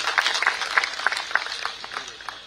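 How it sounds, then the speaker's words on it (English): Audience applause for book authors at the inaugural function of the Bird Festival of Goa, a steady round of clapping with scattered sharper claps, fairly close and lasting a couple of seconds. "let us give a big round of applause to the authors"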